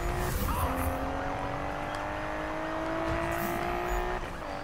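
A Nissan GT-R racing in Need for Speed, its engine holding a steady high drone with rising and falling pitch, mixed with tyre squeal and road noise, loud and close throughout.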